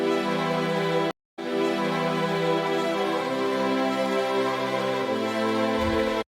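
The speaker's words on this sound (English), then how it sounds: "Then there actually is a string arrangement in the song" A subtle string arrangement from a mix plays sustained, layered chords with a brief dropout, then shifts to lower held notes.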